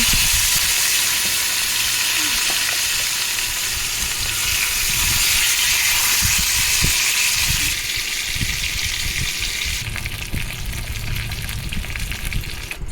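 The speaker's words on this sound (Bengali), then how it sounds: "এবার কড়াইতে তেল দিয়ে আমি মাছগুলি ভেজে নেব" Katla fish pieces, rubbed with salt, turmeric and lemon juice, fry in oil in a wok with a loud, steady sizzle that continues throughout and eases slightly near the end.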